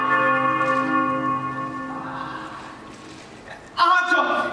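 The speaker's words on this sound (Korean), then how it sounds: "시계탑 종소리인데." A clock tower bell rings out with sustained, resonant tolling that slowly decays, followed by a fresh, louder strike near the end, heard within a stage musical performance.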